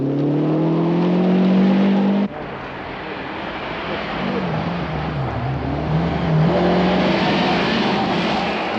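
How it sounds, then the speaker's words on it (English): A Lancia rally car races fast through a stage of a 1991 winter rally, its engine loud and near, with gear changes and rising and falling revs, no voices over it. "Really flying in the Lancia now."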